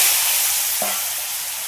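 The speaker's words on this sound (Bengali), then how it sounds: "এবার আলুগুলো সব ভেজে নেবো লাল লাল করে" Potatoes fry in hot oil seasoned with turmeric and salt, giving a steady broadband sizzle with a short soft clink partway through; no one speaks.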